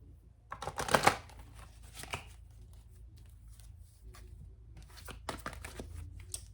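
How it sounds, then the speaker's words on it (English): Romance angel oracle cards shuffled by hand, a burst of riffling near the start followed by softer, scattered flicks and rustles of the cards. "Let me pull 3 romance angel cards for you for the month of January."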